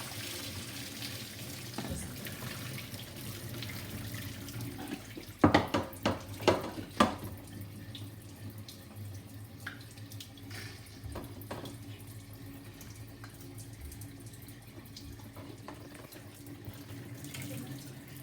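Cold water runs steadily from a sink tap, with a brief burst of clattering pots and dishes partway through, close by.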